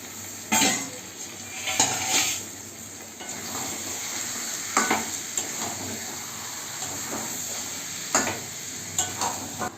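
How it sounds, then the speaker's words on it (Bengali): Mutton fat is stir-fried in masala for a korma: an even background sizzle with scattered scrapes and clanks of a spatula against the pot, a few at a time with short pauses between. "আমার যে মটনের ফ্যাট ছিল এগুলোকে দিয়ে দিলাম কষানোর মধ্যে।"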